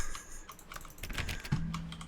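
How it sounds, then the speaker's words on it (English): Clicking sounds from The Stanley Parable video game, with short, faint, irregular clicks and taps scattered through a quiet background, with no one talking. "it does make a sound effect when I click on things"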